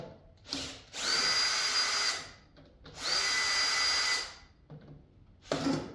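Power drill spinning screws out of a large electric motor being scrapped for copper, two loud sustained whirring bursts of about a second each with a brief start at the end, close and alone.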